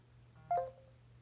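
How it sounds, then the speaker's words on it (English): A smartphone alert chimes for an incoming text message, a short electronic two-note tone sounding once over a faint steady hum. "And then there is my text message coming in."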